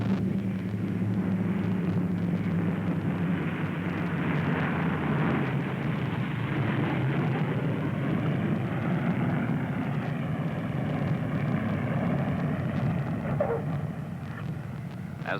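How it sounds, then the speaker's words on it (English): A Lockheed Electra propeller airliner touches down on a snow-covered runway, its steady loud engine roar swelling as the propellers are reversed, a continuous close rumble with no talk. "As the wheels touch down on the snow-covered runway, the pilots pull back the throttles, reversing the pitch of the propeller"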